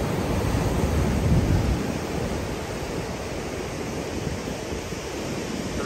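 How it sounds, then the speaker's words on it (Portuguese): Sea waves washing onto the beach at Búzios, a continuous broad roar of surf with some wind buffeting, strongest early on and steady afterward, with nobody speaking. "Olha esse mar."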